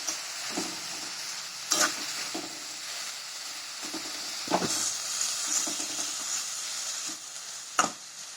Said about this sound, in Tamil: இந்த காயை நல்லா வதக்கிக்கோங்க